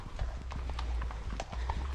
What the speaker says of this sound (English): the horses want some exercise as well. So let's follow them